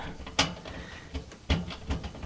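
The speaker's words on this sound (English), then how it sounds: "we replace the cover, tighten our screws down" Screws being tightened down on a furnace cover, heard as a few close, sharp ratcheting clicks and clacks separated by brief quiet gaps.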